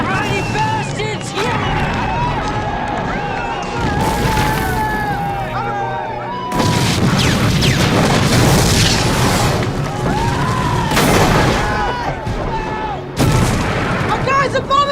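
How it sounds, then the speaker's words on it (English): Artillery bombardment in a war setting, with heavy booming blasts and crackling bursts one after another over about fifteen seconds, loud and close, and shouting voices mixed in. "Our guys are bombing us! Take cover!"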